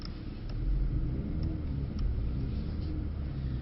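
A Mercedes C63 AMG being drifted on a track in all-wheel drive gives a deep, steady engine rumble heard from inside the cabin, swelling slightly as the throttle is held on.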